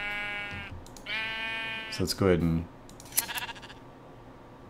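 Sheep bleat in Minecraft as they are sheared, with a couple of wavering bleats followed by a short clipping sound, heard alongside someone talking.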